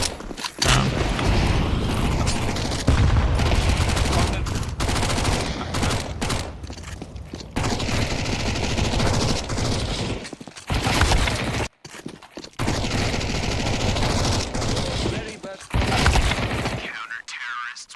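Dense, loud bursts of rapid gunfire and weapon fire from a Counter-Strike match rattle almost without pause, broken by a few brief near-silent gaps.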